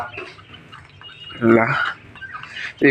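Quails call in short bursts close by, loud, with a brief pause between calls and a final sharp call at the end; no talk.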